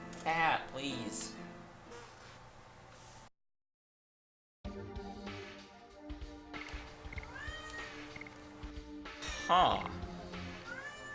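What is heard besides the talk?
cat meowing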